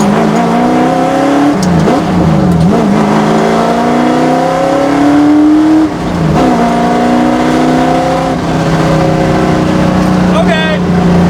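A 1966 Ford Mustang race car engine revs hard and close by, climbing and falling through several loud bursts of acceleration with a rough, throaty tone.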